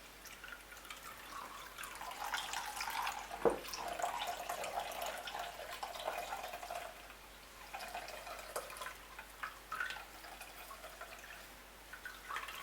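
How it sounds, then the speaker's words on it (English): Steady trickling and dripping of water squeezed from grated cassava, close by and moderately loud, running continuously without any talking. "Continue to squeeze till you are certain that a lot of your water has been extracted."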